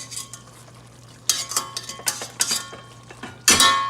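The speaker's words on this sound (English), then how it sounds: "Move things around so it cooks all your meats here." A spoon scraping and clinking through meats in a pot of Neapolitan ragu sauce, a series of quick stirring knocks and scrapes over a soft steady simmer, close and fairly loud.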